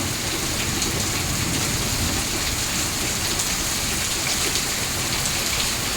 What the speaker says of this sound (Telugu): చల్లటి వాతావరణంతో మంచి వర్షం పడ్డదండి